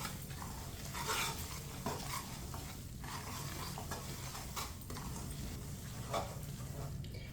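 A spoon stirs moong dal halwa mixture cooking in a pan, making soft repeated scraping and gentle sizzling at low volume, continuous and without talk.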